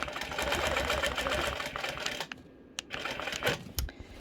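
A sewing machine quilting along a ruler, stitching in the ditch, runs in a fast steady mechanical chatter, then slows into short stop-start bursts with brief pauses.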